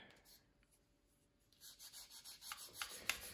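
Sandpaper rubbing over the wing of a Tamiya 1/48 Bf 109 E-3 model plane, quiet at first, then a soft rhythmic scratching of strokes that builds toward the end.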